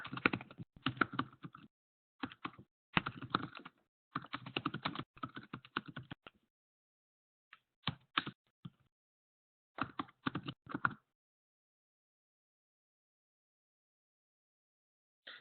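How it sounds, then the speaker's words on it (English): Someone types a message on a computer keyboard in quick bursts of tapping keystrokes separated by short pauses, then a long silence with a lone keystroke at the end, close and clear. "And I can type a message."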